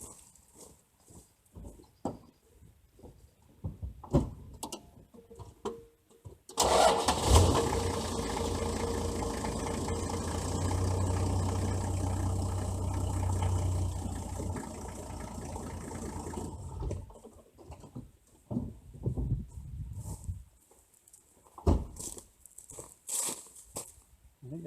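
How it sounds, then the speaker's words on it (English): A car engine runs and revs steadily for several seconds while reversing to tension a rope during felling of a dead tree near an off-grid house, with quieter outdoor clatter before and after. "I can back the car up and sort that out"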